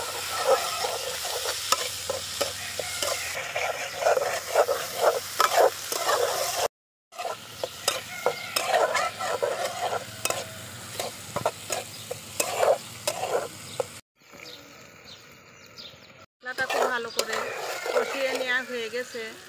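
Spices and chopped tomato sizzle in a frying pan while a spoon stirs and scrapes rhythmically, with brief pauses, and a person talks over the cooking.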